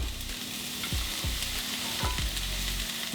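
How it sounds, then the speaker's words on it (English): Onions, celery and carrot sizzle steadily in a hot pan, with a few soft scraping stirs and clicks against the pan. "we're going to be frying off our onions with our celery and our carrot to soften them up"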